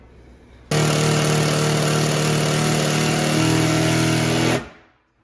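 A power drill drives a screw for a microhood mount into a wall stud: a loud, close, continuous whir for about four seconds whose pitch drops partway as the screw bites, then spins down to silence.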